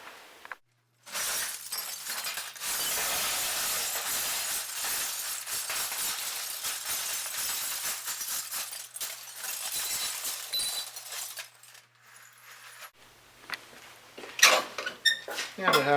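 Recycled glass fed gradually into a homemade glass furnace that holds about 200 pounds: loud, continuous clattering and shattering of glass pieces for many seconds, thinning out toward the end with a few sharper clinks and some talk.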